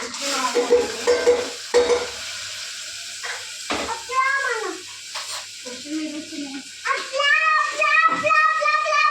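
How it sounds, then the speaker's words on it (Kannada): Mustard seeds, cumin, onion, coriander and garlic go into hot oil for a lentil sambar, giving a continuous sizzle and crackle of frying close by, with people talking over it throughout. "ಎಣ್ಣೆ ಬಿಸಿ ಆಗಿದೆ ಅಲ್ವಾ ಇವಾಗ ಸಾಸಿವೆ ಜೀರಿಗೆ ಸ್ವಲ್ಪ ಒಂದು ಈರುಳ್ಳಿ ಕೊತ್ತಂಬರಿ ಮತ್ತೆ ಬೆಳ್ಳುಳ್ಳಿ"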